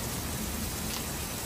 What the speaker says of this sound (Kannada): ಇಲ್ಲಿ ಮಳೆ ಸ್ಟಾರ್ಟ್ ಆಗಿದೆ ಆಗಲೇ.